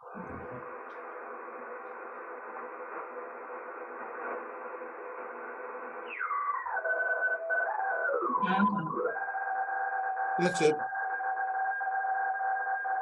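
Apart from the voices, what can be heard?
FT8 digital radio mode tones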